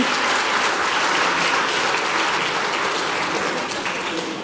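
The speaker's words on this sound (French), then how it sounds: "Vous pouvez l'applaudir" A packed lecture amphitheatre breaks into sustained, even applause for a speaker, a thick wall of clapping that holds steady and only slightly thins toward the end.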